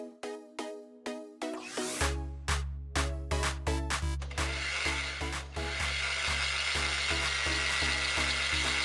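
The ratchet chuck of a household power drill is tightened by hand, a close series of crisp clicks speeding up, then joined by a dense whirring as the drill runs.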